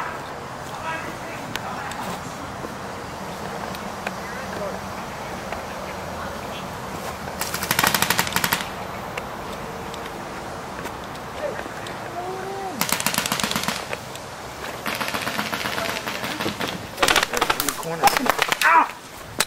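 Airsoft guns firing during an airsoft game, with rapid full-auto bursts near the middle and repeated rattling bursts toward the end over a continuous outdoor background, with people talking at times.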